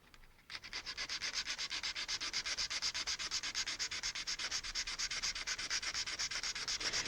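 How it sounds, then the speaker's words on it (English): A foam sanding block wet-sanding a model, with steady, rhythmic back-and-forth strokes up close that continue evenly for several seconds, with no talking. "The reason I always use a sanding block on this and not my finger"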